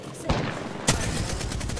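Gunfire in the video game Apex Legends, loud and dense, with two sharp shot onsets followed by sustained rapid firing that fills the whole short stretch.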